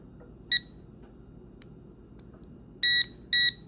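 A Garrett Carrot AT metal detector gives electronic startup beeps, one short tone followed after a pause by two longer clear beeps in quick succession, each bright and close against a quiet background.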